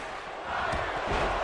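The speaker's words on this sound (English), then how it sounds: "And the crowd, you can hear them" A large video game crowd in WWE 2K17 roars and cheers continuously at a wrestling event, a dense wash of voices rising slightly louder toward the end.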